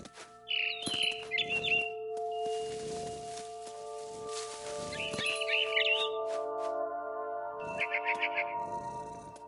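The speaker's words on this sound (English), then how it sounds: "Then I heard chirping outside my window. It was a barn swallow going back to her nest." A barn swallow's bright chirps in the video game What Remains of Edith Finch come in short bursts over a steady tonal background hum, some sharp and close, with a few faint clanging tones.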